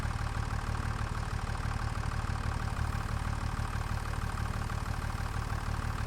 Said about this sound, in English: Did you hear me over your loud engine?